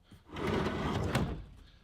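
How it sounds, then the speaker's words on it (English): A utensils drawer in a Toyota Hilux fitted out with a roof tent is pushed shut, a close, fairly loud sliding scrape with a short thump, heard alone without talking. "If we take a look at what's in the utensils drawer, let me just see if I can push this one in."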